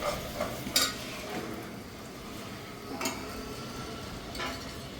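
Tomatoes stirred into ginger paste frying in a pan, with a steady sizzle underneath and a few louder scrapes and clinks of a utensil against the pan.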